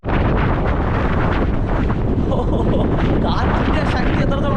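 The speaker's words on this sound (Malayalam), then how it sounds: "കാറ്റിൻ്റെ സൗണ്ട് ഇതിനകത്ത് കറക്റ്റായിട്ട് കിട്ടും" Strong wind at the Parunthumpara viewpoint near Peerumade batters the microphone, a loud, constant rumbling buffet that starts suddenly and fills the whole stretch.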